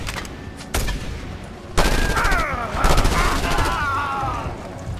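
Gunfire from the video game Just Cause 2 arrives in sharp bursts, with single shots followed by louder rapid automatic fire and booming impacts, all loud and close.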